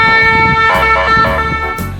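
An ambulance siren wails loud and close in a steady, tonal pattern, with a few short bursts of vehicle noise cutting across it.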